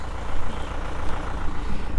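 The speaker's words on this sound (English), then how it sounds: "So you can see the tractor coming up there now." A farm tractor draws nearer across a dung-spreading field, its diesel engine a steady, moderately loud rumble with a slight rise and fall and no talk over it.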